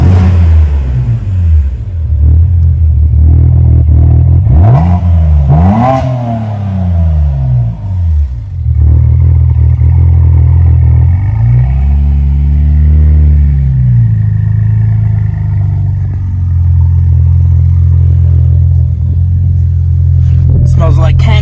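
BMW Z4 engine on its first start, running on fresh E85 and rattling: a loud, steady low rumble that rises in a couple of revs and settles back to idle, with voices talking over it.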